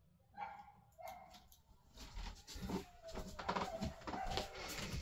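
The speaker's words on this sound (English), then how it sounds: "Don't know why she's barking so bad." Lexi, a female dog, barks repeatedly outdoors: a run of sharp yips and barks, slightly distant and soft, with some rustling around them.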